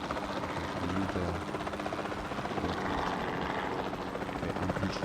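Steady helicopter rotor thrum and engine drone in the video game Jurassic World Evolution 2, during a dinosaur sedation flight. It is continuous and even for five seconds, fairly quiet, with no talk.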